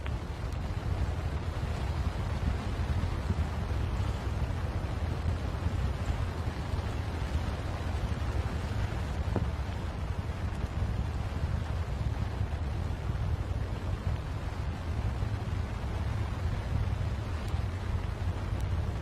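The SLS rocket first stage engines fire in a static test, giving a continuous, loud, broadband roar that holds steady for the whole stretch with no break and no voices.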